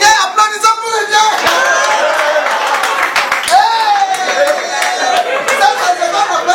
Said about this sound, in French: applaudissons pour le Dieu